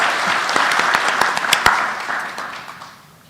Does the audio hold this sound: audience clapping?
yes